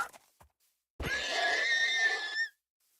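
A horse in the Minecraft video game neighs once, a loud, strained whinny lasting about a second and a half after a short pause of faint clicks.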